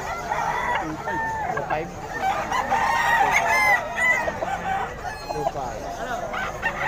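Several roosters crowing with clucking around them at a market, close and lively, while people talk briefly in the background.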